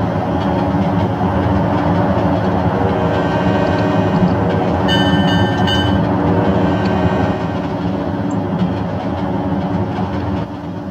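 A train runs steadily in the Trainz simulator, a continuous close rumble of rolling wagons and engine drone with faint rhythmic clatter and a brief high metallic squeal in the middle.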